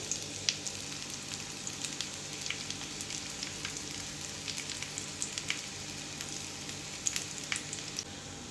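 Mushrooms, tomatoes and sausages fry in a pan for an English breakfast, giving a steady close sizzle with scattered small pops and crackles throughout and no voices.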